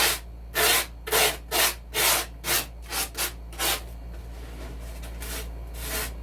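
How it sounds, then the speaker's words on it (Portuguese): Sandpaper works back and forth over the inside of a giant decorative popsicle sculpture in a regular rhythm of about ten loud, close, raspy strokes, then goes quieter, over a low steady hum. "vou riscar, lixar aqui na parte de dentro"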